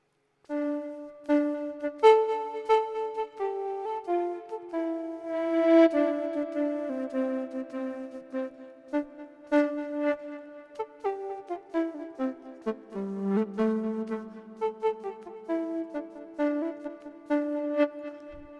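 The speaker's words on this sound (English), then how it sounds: "take our sample of our pan flute, load it in, use a long grain oscillator here" A breathy pan flute sample played through a long-grain oscillator synth with a wind controller: a slow, wandering melody, its sustained notes smeared and layered with a soft, filtered, grainy texture.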